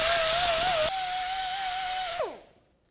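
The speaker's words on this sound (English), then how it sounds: "grab my sanding disc and just sand this all down flat, nice and even, nice and clean surface" A sanding disc grinding a metal surface on a 2013-2019 Ford Escape whines high and steady for about two seconds, its pitch holding level, then winds down and stops, leaving silence.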